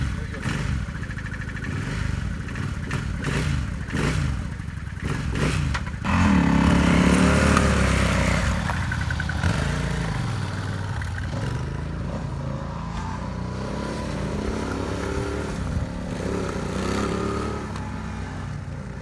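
A dual-sport motorcycle engine droning along a road, a steady mid-range rumble with wind noise that swells briefly as it speeds up, with people talking over it at times.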